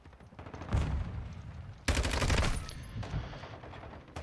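Gunfire in the video game Modern Warfare 2: dense, rapid bursts of shots, close and loud, with a sharp surge of fire about halfway through that then eases to a steady crackle. No one speaks.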